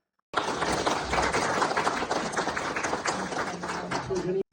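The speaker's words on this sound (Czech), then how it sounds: "Zasloužený potlesk" An audience of about fifty people gives steady, sustained applause after a live lecture, dense clapping starting abruptly and ending cut off, with a voice briefly audible near the end.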